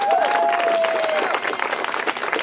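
Crowd applause at the 2013 Boonsboro Green Fest opening ceremony, a dense wash of clapping that runs steadily for the whole stretch and thins a little toward the end, with a voice rising and falling faintly over the start.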